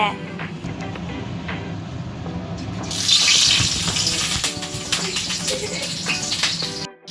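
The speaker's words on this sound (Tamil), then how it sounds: "கருவேப்பிலையை எண்ணெயில் போட்டு தாளிங்க. இப்போ நம்ம மிளகாயை போடலாம்." Curry leaves and chillies fry in hot oil, making a continuous, fairly loud hissing sizzle that swells about halfway through. A voice talks over the frying.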